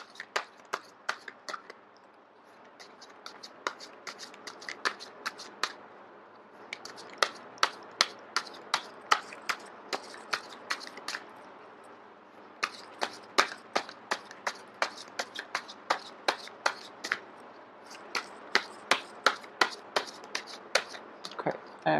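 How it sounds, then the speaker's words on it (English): Tarot cards shuffled by hand in long runs of quick, crisp snapping taps, fairly close but moderate in level, with short pauses between runs. "I am going to shuffle until the first card drops out."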